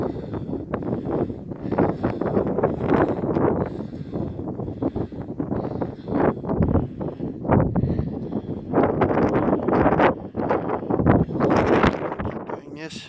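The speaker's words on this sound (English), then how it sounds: "Don't know if you can hear me or not because of the wind." Wind buffets the microphone throughout a hill climb, a steady rough roar that rises and falls in gusts, mixed with a person's heavy breathing and talk.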